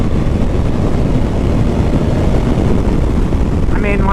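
Steady, loud wind-blasted engine drone from a 2021 Honda Africa Twin motorcycle cruising on an interstate at 70 mph, continuous low roar throughout with a faint whine near the end.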